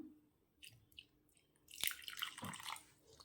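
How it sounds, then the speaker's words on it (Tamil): Soft wet squishing and a light pour of water into a sesame dough mixture being kneaded by hand, with a few faint drips before the louder splash near the end. "கொஞ்சமாக தண்ணி சேர்த்துக்கலாம்."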